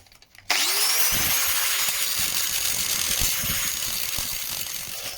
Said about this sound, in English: So let's go with the grinder, eh?